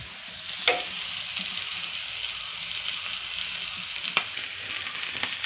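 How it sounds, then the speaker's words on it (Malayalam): Chicken frying in a pan, a steady broad sizzle with a few sharper crackles and pops standing out, close and continuous with no talking. "ചിക്കൻ പൊരിക്കുന്നുണ്ട്"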